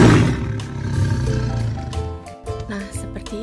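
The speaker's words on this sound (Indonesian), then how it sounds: "Nah, seperti itu ya suara harimau." A tiger roars loudly and continuously, with a growling rumble layered under tonal, music-like sound and swelling and easing through the stretch.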